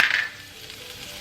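Garlic frying in about a tablespoon of olive oil in a pan, a brief burst of sizzle at the start that quickly settles into a faint, steady hiss with no talking.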